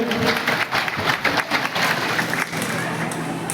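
An audience claps loudly at a government social justice department event in Niphad. The applause is dense and continuous, with a murmuring crowd underneath.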